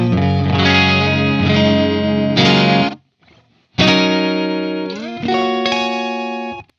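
Electric guitar run through an Old Blood Noise Endeavors Excess V2 pitch-shift pedal, polyphonic notes with a thick, distorted, chorus-like shifted layer; loud close chords ring out, pause briefly, then resume and sustain.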